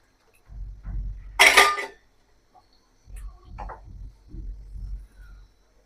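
Water hits a pan of frying curry with one short, loud hissing splash, surrounded by low thuds and clatter of the pan on the stove, recorded close up.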